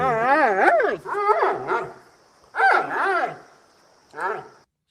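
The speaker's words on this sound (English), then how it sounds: "So they're dogs." Several dogs bark and howl in bursts of wavering, pitch-sliding calls, separated by short pauses, loud and close.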